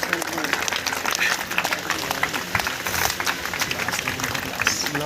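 A congregation at a Hindi-language spiritual service keeps up loud, sustained clapping with a dense, driving rhythm, while voices talk and call out over the applause.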